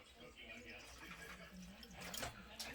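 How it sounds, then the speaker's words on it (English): Water pours into a flour mixture for tamales with a soft, low trickle and splash under quiet room noise, fairly faint and close. "I'm going to add a little bit of water"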